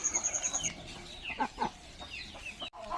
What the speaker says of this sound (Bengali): এই যে মুরগাটা দেখছেন, এই জাতটার নাম হচ্ছে আসিল